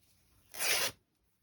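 A single tearing rip through very thin, see-through fabric being torn into strips for eco-style upcycled craft tags, a close, bright half-second burst that stops abruptly, surrounded by quiet.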